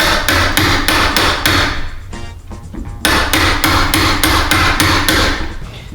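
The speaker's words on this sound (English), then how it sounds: "It's just a matter of running the chisel back along the top." Steady hammer blows drive a chisel along the hinge recess of an internal door, a fast run of sharp knocks that pauses briefly, then resumes; close and loud.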